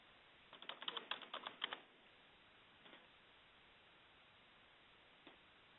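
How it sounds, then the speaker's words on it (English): A burst of computer keyboard typing as a search word is entered into a hunting-unit lookup tool, about a dozen quick keystrokes over roughly a second, then a couple of faint isolated taps in an otherwise quiet room. "let's type in the word Olympic"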